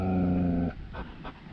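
A male dog growls loudly and close by in a low, rumbling burst, then trails off into softer, rougher breathy sounds.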